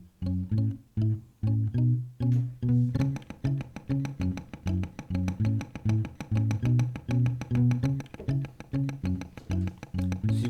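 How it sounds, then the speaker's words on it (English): Layered guitar loops for a song play, with muted strings picked percussively in the song's rhythm over a repeating riff, steady and alone without talking. "which is done by muting the strings here and just playing one of the strings in the"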